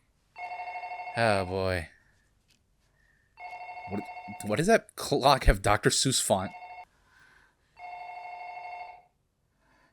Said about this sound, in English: It's about the phone ringing.